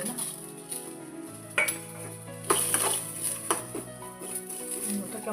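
Chopped onions dropped into a pan and fried, with metallic clinks of a spoon against the pan, stirring scrapes and a faint sizzle underneath, close and fairly quiet.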